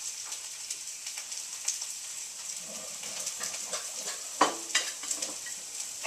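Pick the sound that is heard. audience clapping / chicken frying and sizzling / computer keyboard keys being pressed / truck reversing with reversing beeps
chicken frying and sizzling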